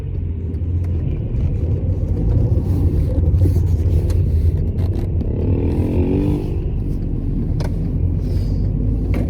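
Steady low road rumble and tyre noise inside a moving Volkswagen Jetta Comfortline (PQ35 platform), a continuous dense drone heard alone throughout with occasional faint scrapes and bumps.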